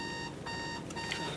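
A video-game alarm clock in Minecraft rings with a bright steady electronic tone, broken by two short gaps, loud and close with no talking.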